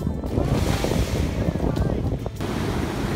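Large ocean waves break on a beach closed for rough surf, a loud continuous wash of surf with wind buffeting the microphone throughout.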